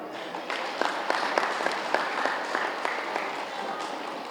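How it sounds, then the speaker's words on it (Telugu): A crowd claps steadily for several seconds, sharp individual claps standing out over a dense patter, fairly close and moderately loud. "ఈ కొత్తగా వచ్చిన వాళ్ళు గట్టిగా చప్పట్లు కొడదాం"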